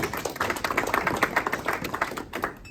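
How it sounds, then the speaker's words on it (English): Audience applause at a formal African gathering of dignitaries, a dense wash of many hands clapping steadily for nearly three seconds, moderately loud, then thinning out at the end. "A round of applause to Lord again."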